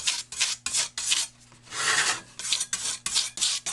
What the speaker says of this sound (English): Working the surface here and get a little bit of that PVC off of this blade while I'm at it.